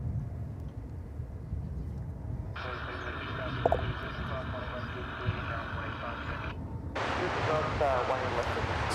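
A distant Airbus A319 arriving at Dallas/Fort Worth Airport produces a steady jet engine roar that swells and brightens as it approaches, under a continuous hiss of background noise.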